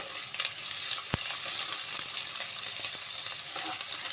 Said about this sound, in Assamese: আৰু অতি কমেও 2-3 মিনিট সময় মই পিঁয়াজ আৰু আদা নহৰুখিনি অকণমান ৰঙচুৱাকৈ ভাজি ল'ম।